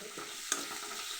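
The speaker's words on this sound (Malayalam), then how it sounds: "കുറച്ച് നേരം ഒരു 5 മിനിറ്റ് ഒന്ന് ഇളക്കിയെടുക്കാം" Food being stirred in a pan as it fries for a green chicken gravy, a short burst of soft sizzling hiss with a single sharp spoon tap in the middle.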